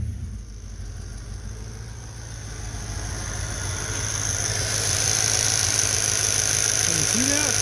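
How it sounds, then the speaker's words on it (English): A car engine with a slight misfire that sputters under throttle, tested with an ignition coil tester set to 25,000 volts, runs steadily close by with a low rumble that grows a little louder partway through. "it's got a little bit of a miss. I don't know if you can hear that, but it sputters"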